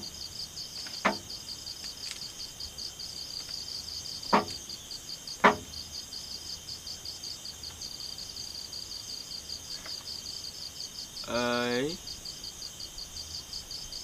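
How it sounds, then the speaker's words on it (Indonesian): Crickets chirp at night at a campsite in a continuous high trill, broken by a few sharp knocks and a brief rattling burst near the end. "cuma terdengar suara-suara jangkrik nih"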